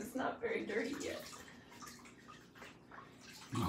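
Water sloshes and splashes in a bathtub while a Labrador puppy gets her first bath, in irregular bursts close by with a loud splash at the end.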